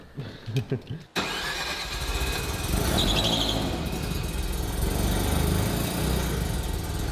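A rotary-engined Corvette cranks over with a few quiet, uneven pulses, then catches after about a second and settles into a loud, steady, buzzing idle close by.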